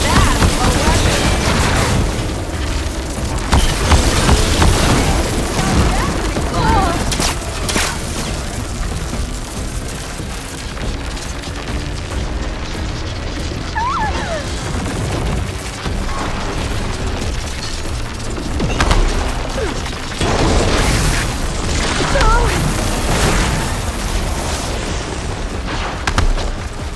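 Zenith weapon firing in Horizon Forbidden West: Burning Shores on PS5, with repeated booms and explosive bursts over a dense, continuous battle din and game voices throughout the fight.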